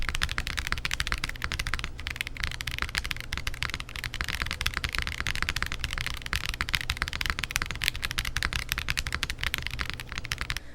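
Rapid, steady typing on a Zoom75 Tiga keyboard with an FR4 plate and silica gel mount, dense clacky keystrokes running continuously and close without pause or talk.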